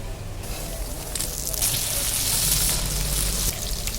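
Onions and tomatoes sautéing in oil in a pan for a chicken gravy, a loud close crackling sizzle that swells to a bright hissing peak in the middle and then settles slightly, with no voices.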